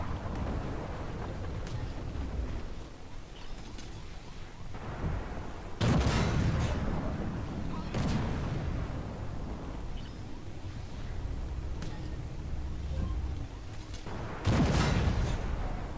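Tank guns firing in the armored combat game Armored Warfare: two heavy booming shots stand out at about 6 and 14.5 seconds over a constant rumbling battlefield din, with lighter distant thuds between them and no talk.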